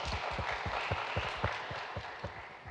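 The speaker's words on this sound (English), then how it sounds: "let's give a big applause for Miss Maria and Professor Lily Suharti" An audience at an international management conference claps in a dense, steady round of applause, with many hands striking in quick, overlapping rhythm throughout.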